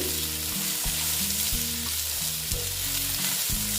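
A vegetarian mix of vegetables gets stirred in a hot frying pan, spatula strokes scraping in a regular rhythm over a constant sizzle of oil, close and clear, with no voices.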